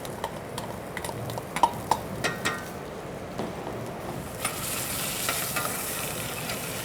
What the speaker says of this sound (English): And that's sizzling away there.